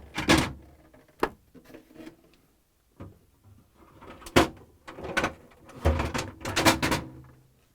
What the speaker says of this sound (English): Next, I'm going to pull out both drawers and remove them.